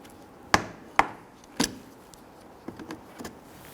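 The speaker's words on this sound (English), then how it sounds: "pop out the plastic trim button here" A trim tool pries a plastic trim button from the front inner fender liner of a 2006-2012 Toyota RAV4, with the wheel removed. Three sharp, close plastic pops are followed by a few fainter clicks.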